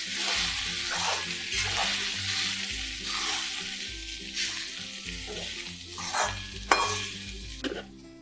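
Poha being stirred in a hot pan for kande pohe, a continuous sizzle with repeated scraping strokes and occasional sharp clinks of the spoon against the pan, close and steady with no voices.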